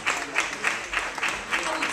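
Audience applause welcoming a composer to the stage at a song and music video presentation, a brief burst of scattered rhythmic clapping at moderate distance.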